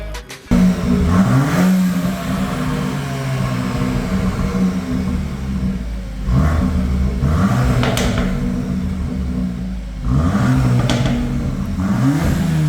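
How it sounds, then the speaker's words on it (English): An Audi S3 8Y with an upgraded exhaust, valves closed, revs repeatedly, climbing and falling in pitch with a deep, muffled exhaust note between steady idling stretches, close and loud. "we're literally just going to do a really quick sound test to see what it's like with the valves closed"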